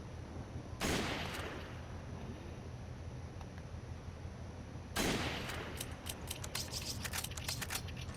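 Shots ring out in Resident Evil 5: a sharp loud burst early on, a second burst partway through, then a quick run of crisp, closely spaced cracks over a steady low background hum.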